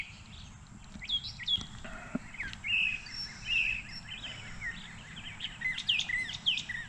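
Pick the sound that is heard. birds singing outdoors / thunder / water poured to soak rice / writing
birds singing outdoors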